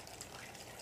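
Water poured slowly from a measuring cup into a fish tank during a water change, a steady soft gushing trickle running continuously and close by.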